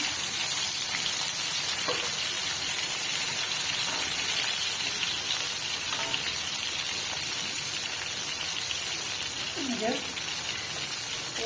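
Shrimp frying in hot oil in a home kitchen, a dense, steady sizzle and crackle close by, with a few faint clinks and a voice speaking over it.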